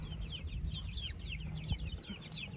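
Hens and little chicks, including Death Layer and Orpington chicks, cluck and chirp continuously in a damp coop alongside a rooster, a busy overlapping chorus of short calls close by.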